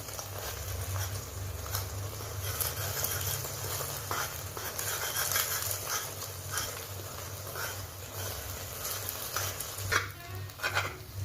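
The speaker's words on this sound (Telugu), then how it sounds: "మనం బీట్ చేసుకునే ఎగ్ని వేసుకోవాలి. ఇప్పుడు దీనిని మరీ ఫ్రై చేసుకోకుండా కొంచెం లైట్గా కలర్ చేంజ్ అయిన తర్వాత పీసెస్గా కట్ చేసుకోవాలి." Beaten egg frying in oil in a pan for egg rice, a steady close sizzle with scraping and tapping as it is stirred, busier toward the end.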